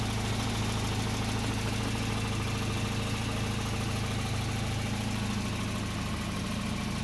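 A car engine fitted with a single-channel CDI ignition idles steadily, a continuous close, even hum with no change in speed.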